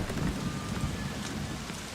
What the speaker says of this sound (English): Why is it only raining over there?